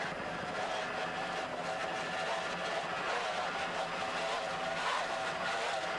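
Three 2.5 EFI outboard motors drive a racing powerboat offshore near Key West, giving a steady, dense roar with a buzzing tonal edge that holds at constant loudness throughout, with no talk.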